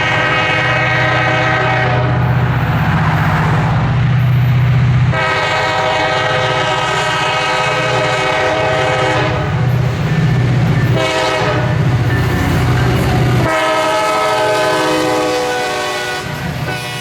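Grey Alstom SD40-3 diesel locomotives on the Aberdeen Carolina and Western near Pinehurst roar past close by, engines droning loudly while the horn sounds in several long blasts separated by short gaps.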